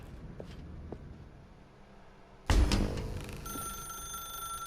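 A telephone in The Stanley Parable video game starts ringing with a sudden loud onset after quiet ambience, a sustained bright electronic ring that continues steadily to the end, close and alone without talk.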